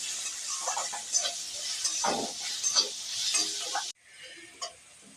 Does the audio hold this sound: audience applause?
no